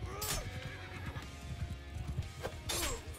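Horses neigh and whinny loudly in a medieval video game siege with mounted horse archers, two sharp bursts at start and end over clopping hooves and battle clatter.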